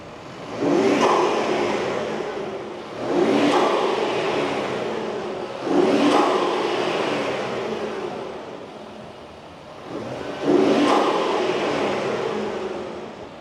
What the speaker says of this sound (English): Gonna start it up. Let's hear it.